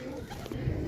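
A Teddy breed pigeon cooing softly up close in a brief, low, murmuring call.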